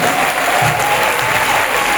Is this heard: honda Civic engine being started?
no